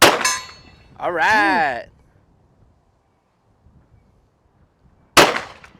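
A Walther PDP pistol shot striking a steel target at 100 yards: a sharp report at the start, then a ringing metallic clang, a long quiet pause and another sharp crack at the end, with brief talk.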